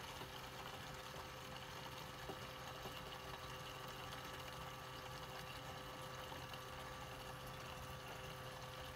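A Terapump TRFA01 battery fuel transfer pump runs while moving fuel into a tank, giving a faint, unbroken motor hum with liquid flowing and no pauses.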